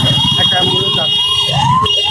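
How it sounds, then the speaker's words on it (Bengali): An ambulance siren on a road, wailing up and down in repeated rising sweeps over loud vehicle hum, with voices talking nearby. "একটা অ্যাম্বুলেন্স আছে"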